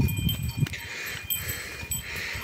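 Goats out on open hillside scrubland bleat several times close by, their calls loud and clear with brief pauses between them.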